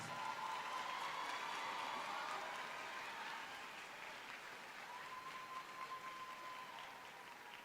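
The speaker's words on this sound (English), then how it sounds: "can we all give these youngsters a round of applause?" Audience applause fills a middle school graduation ceremony hall, a dense sustained clapping from a large crowd that gradually softens toward the end.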